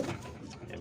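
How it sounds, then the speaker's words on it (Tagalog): White pigeons coo softly in a loft, a low murmuring burble running steadily through the short moment, close by with a little background rustle. "mga puting kalapati po natin dito sa ating loft"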